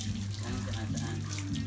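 Tap water runs steadily into a sink for washing, a close, continuous splashing stream with a low hum beneath, heard alone without talk.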